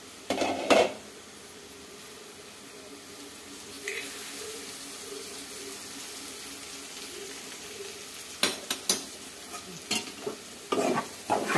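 Food frying in a pan with coriander, curry leaves and lemon juice, steady sizzling under repeated stirring scrapes and clinks of a utensil against the pan, close and fairly loud, no voices.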